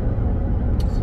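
A Ram 1500 half-ton truck in tow/haul mode engine braking while towing a 32 ft travel trailer downhill in the mountains, a loud steady low rumble filling the whole moment, with a short hiss near the end.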